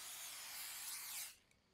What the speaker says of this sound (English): It's just rat spray.